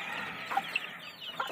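A few high, thin chirps from newborn chicks sound close by, scattered and quick over a soft background hush.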